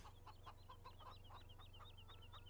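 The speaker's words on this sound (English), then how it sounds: "Got our chickens just running around here." Chickens cluck in quick repeated chirps around a farmyard in the Farming Simulator 17 video game, set against a steady low background hum and sounding fairly faint.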